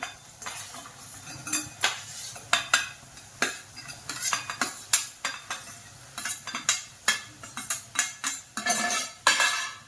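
Paneer and green peas mixed in a pan with a metal spoon, clinking and scraping strokes against the pan in an uneven rhythm over a faint sizzle, close and clear, without speech.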